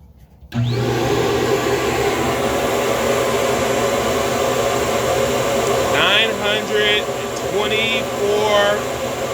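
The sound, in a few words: flow bench running, testing Anderson power pipe on throttle body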